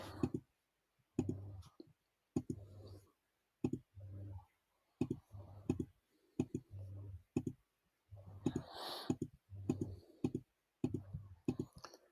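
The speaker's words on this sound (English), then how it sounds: "it's going to take me about 10 seconds to click on all of these parts" A computer mouse clicks repeatedly while selecting parts in Photoshop, a dozen or so sharp, close clicks in uneven rhythm, with brief soft noises between some of them.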